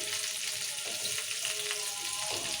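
Masala-coated fish fries in hot oil with a steady, close, continuous sizzle and crackle, and bubbling rises and falls softly throughout with no voices.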